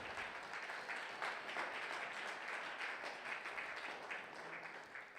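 A church congregation at a Sunday thanksgiving service applauds, a dense, steady wash of many hands clapping, heard faint and from a distance.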